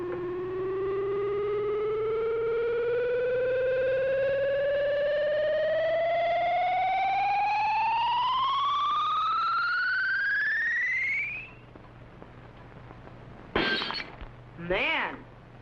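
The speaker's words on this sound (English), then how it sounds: "whatever the beam hits will be instantly shattered by the ultrasonic sound wave vibrations" Old television science-fiction ultrasonic ray effect: a loud electronic tone that rises steadily for about eleven seconds, then stops, followed by two short bursts of a shattering glass jug.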